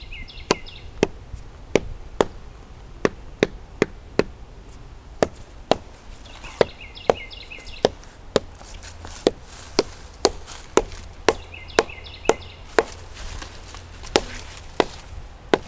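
A garden tree's wood is tapped to judge whether it is hollow or solid, giving sharp, evenly spaced knocks about twice a second against a quiet outdoor background.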